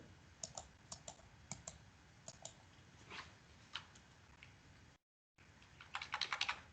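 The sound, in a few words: typing on a computer keyboard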